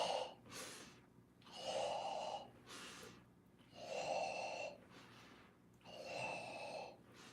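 Slow, deep breathing during a cat-cow yoga stretch: three long audible breath cycles, each a strong airy inhale or exhale with slight nasal rasp, close and quiet with no talk.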